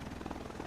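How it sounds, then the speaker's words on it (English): Helicopter flying overhead in The Division, a brief steady whirring rotor drone heard faintly on its own. "being drowned out by a helicopter"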